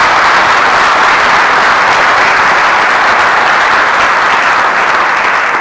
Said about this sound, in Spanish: Y esto merece un aplauso,